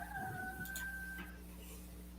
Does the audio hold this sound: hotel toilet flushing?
no